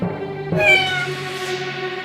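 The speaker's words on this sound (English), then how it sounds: "they heard a cat meowing" A cat meows clearly, a single drawn-out, tonal cry rising then trailing off, close and fairly loud with a faint hum beneath.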